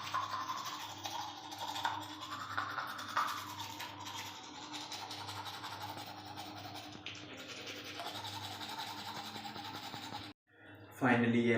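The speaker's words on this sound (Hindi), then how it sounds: "फाइनली पेस्ट मेरे ब्रश के उत्ते लग चुकी है" Teeth being brushed with a toothbrush and toothpaste, a close, quiet scrubbing with rapid rhythmic strokes running for about ten seconds, broken by a short pause near the end.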